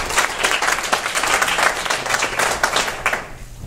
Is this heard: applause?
yes